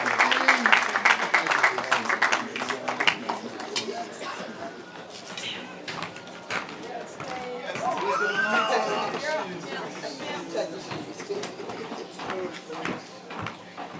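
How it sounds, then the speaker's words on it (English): Applause for a teacher at a high school graduation ceremony, a broad crowd clapping steadily for several seconds, with voices and chatter mixed in throughout. "another round of applause"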